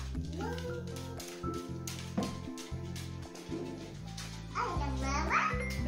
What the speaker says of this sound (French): Un chat!